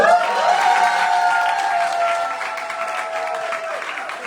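A crowd applauds loudly with some cheering, the clapping steady at first and gradually thinning out toward the end.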